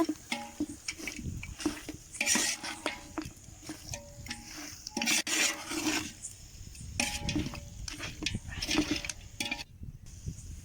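A spoon scrapes and rasps around a pot while spice powder is stirred into a country chicken curry. The strokes come in uneven, fairly quiet bursts with no one talking.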